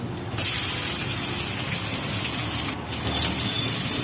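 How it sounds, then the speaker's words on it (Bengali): Chopped onion goes into hot oil with green and black cardamom, bay leaves and cinnamon, producing a loud, steady, close sizzling hiss that breaks off briefly twice. "কিছুক্ষণ এভাবে নাড়াচাড়া করার পর দিয়ে দিচ্ছি পেঁয়াজ কুচি"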